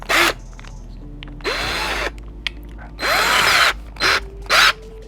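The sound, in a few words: drill-mounted string winder changing guitar strings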